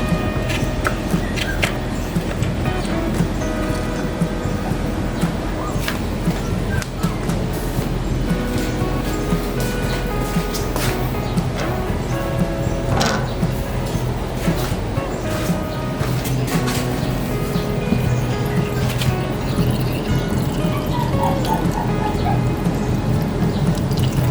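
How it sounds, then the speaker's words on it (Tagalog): Steady trickling and splashing of engine oil draining from a Honda PCX 160 motorcycle runs throughout, with occasional faint drips and clicks over a constant wash of noise. "Mas mabilis bababa yung langis pag may ganito"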